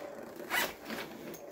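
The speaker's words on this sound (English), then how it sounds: "It zips on both sides." The zipper on a pet stroller is pulled in one quick, close raspy stroke, followed by a couple of softer shorter zips, quiet and with no voices.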